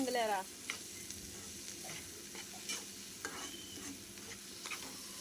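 Onions stirred as they fry in a pan for an egg fry dish: a steady sizzle runs under repeated light scraping and stirring strokes, close and with no talk.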